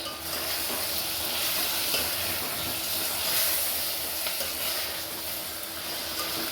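Onions, tomatoes and green chilies sauté in a pan, giving a steady close hiss and sizzle that runs without a break and has no talk over it.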